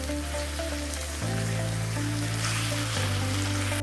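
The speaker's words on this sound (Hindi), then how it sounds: "चिकन को अच्छे से हम फ्राई कर लेंगे।" Chicken frying in hot oil with garlic ginger paste for chicken korma gives a steady, crackling sizzle that continues without pause, with a low hum running underneath.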